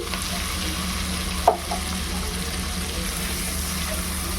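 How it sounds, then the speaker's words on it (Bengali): Chili, garlic and spices fry lightly in oil with a pinch of salt for prawn korma, giving a steady, close sizzle with one sharp utensil clank near the middle. "সব কিছু হালকা করে একটু ভেজে নিচ্ছি।"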